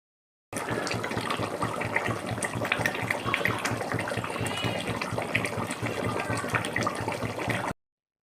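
Water pours steadily into a cooking spice paste for a Bengali katla fish kalia, a close, continuous gushing splash that starts abruptly, runs for about seven seconds at even strength, and stops cleanly.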